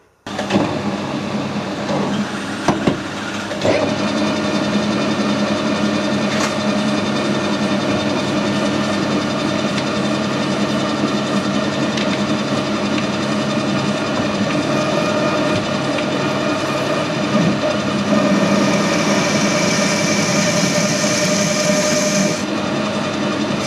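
Lathe turning a 40mm mild steel bar, a few knocks and clicks at the start, then a long steady whirring hum with a faint high cutting whine rising near the end before it winds down.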